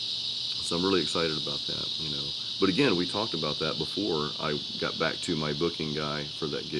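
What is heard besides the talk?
loud cicadas in the background outdoors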